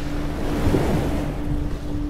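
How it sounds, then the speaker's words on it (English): Ocean waves and wind rumble steadily and loudly, with a low hum running underneath the continuous surf noise and no voices. "You hear the ocean."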